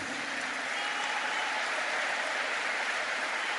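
A lecture audience applauding steadily, a dense even wash of many hands clapping throughout, with no pauses or talk over it.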